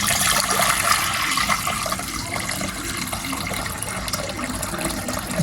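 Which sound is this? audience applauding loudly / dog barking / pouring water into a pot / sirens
pouring water into a pot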